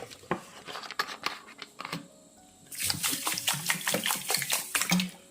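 Water is poured into a bowl of moth beans to soak them in a home kitchen. A gushing, splashing pour starts midway and runs steadily to the end, after a few light clinks and taps.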